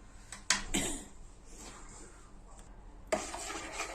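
Milk, egg and salt being stirred together in a bowl for Turkish mantı dough, with close scraping and rubbing strokes, a couple of sharper clinks of utensil on the bowl, and quieter mixing in between.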